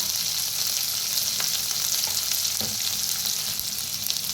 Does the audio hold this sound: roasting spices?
yes